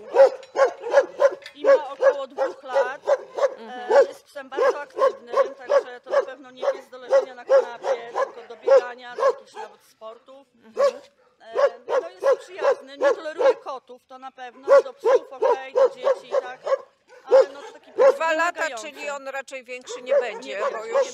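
Dogs at an animal shelter in Hajnówka bark in rapid repeated volleys, loud and close, with yips and whimpers mixed in, pausing briefly before resuming in dense bursts.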